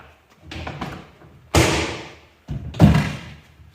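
A wooden top panel of a Vangear Woody-Pod is dropped into place, giving two solid, close thuds about a second apart after some lighter handling knocks, with no talking.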